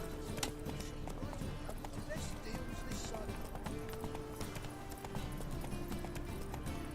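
Horse hooves clip-clop at a steady trot in The Witcher video game, a continuous rhythmic clatter under voices talking.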